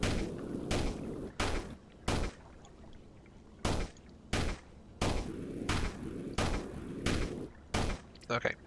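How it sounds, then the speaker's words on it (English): Sand being dug in the Sandustry video game, producing about a dozen sharp, loud, gunshot-like bursts spaced irregularly over a low continuous background. "this digging still sounds so much like a gunshot"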